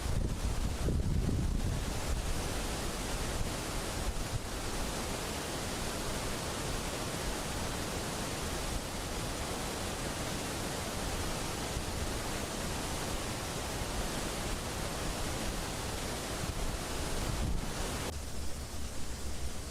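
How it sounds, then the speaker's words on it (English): Muddy Creek Falls, the state's highest waterfall, plunges 53 feet. Its rushing water makes a constant, dense roar close by that barely changes from start to end, with no voices. "you can hear the rushing water as it falls down 53 feet"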